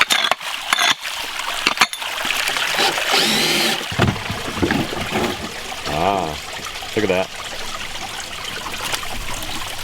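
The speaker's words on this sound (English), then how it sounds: "Water's going over this plastic mold." Water trickles over a plastic mold into a spring box at an outdoor homestead water source, a steady splashing flow with brief clunks and knocks, while people talk nearby.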